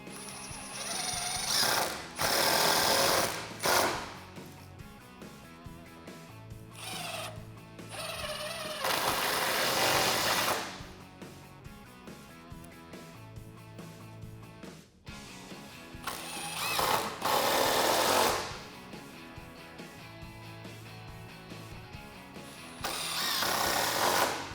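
A power tool drives fasteners to secure a 2x4 board for a Jeep Wrangler JK 4-door hard top hoist, loud ratcheting bursts alternating with quieter pauses, up close with no talk.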